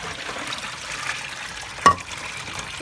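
A Bosch WAE24366 washing machine drains its water in a steady, faint trickling wash with one brief, sharper splash partway through. No one speaks.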